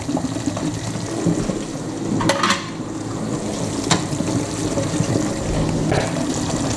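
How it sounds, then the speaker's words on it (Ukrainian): Water boiling in a pot for sterilizing jar lids and jars while making home-canned fish, with a continuous close bubbling churn and a few sharp clinks of metal against the pot. "Вода закипіла, ну а зараз у кип'ячу воду відправляємо наші кришечки та баночки."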